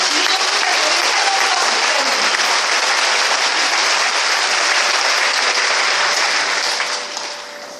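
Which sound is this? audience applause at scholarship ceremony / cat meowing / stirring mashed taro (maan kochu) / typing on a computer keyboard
audience applause at scholarship ceremony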